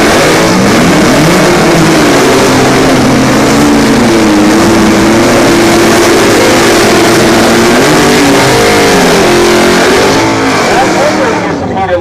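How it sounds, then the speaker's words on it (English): A drag racing car does a smoky burnout in the left-hand lane at a Cadillac Attack event at Orlando Speed World, a loud continuous engine roar that holds at high revs for about ten seconds before easing slightly, with an announcer talking over it. "Smoke burn out left-hand lane"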